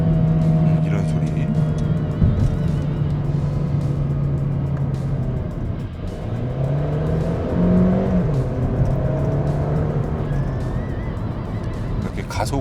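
Mercedes-Benz A220 gasoline engine revving at high RPM under acceleration, a steady loud drone with rising and falling pitch sweeps, heard from inside the car while someone talks over it.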